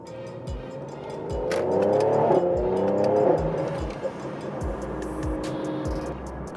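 Mercedes-AMG car engine running with its exhaust valves closed, a muted rising rev that swells and falls back, close by, with clicks and light thumps around it.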